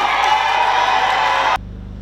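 A crowd at a public rally in Tunduru applauds and cheers, with women especially loud. The dense clapping and shouting runs steadily, then cuts off abruptly to near silence.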